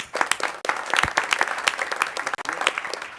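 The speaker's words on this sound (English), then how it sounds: "You all deserve a big round of applause." An audience at a gathering with Governor Andrew Cuomo breaks into a big round of applause, dense sustained clapping from many hands, loud and close, with no voices over it.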